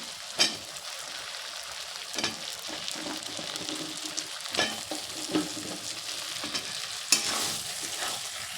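Capsicum fries in a pan of melted-down tomatoes with a steady soft sizzle, broken by several sharp stirring and scraping strokes, close up and without speech.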